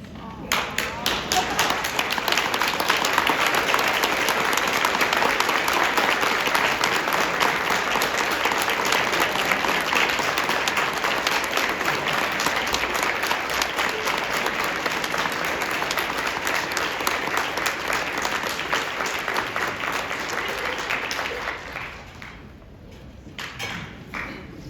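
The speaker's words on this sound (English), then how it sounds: "I would like everybody else in this audience to please stand and clap for them." A large standing audience at a conference speech applauds loudly and steadily for about twenty seconds, then the clapping thins and fades away.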